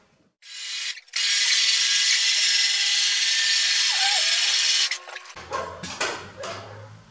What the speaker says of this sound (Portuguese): Ele está tirando parafuso?